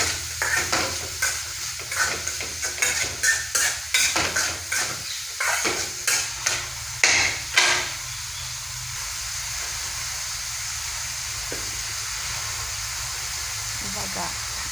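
A spoon scrapes and clinks against a pan as food seasoned with turmeric and salt is stirred, in a quick run of rhythmic strokes. A soft sizzle follows and carries on alone, with a voice heard faintly.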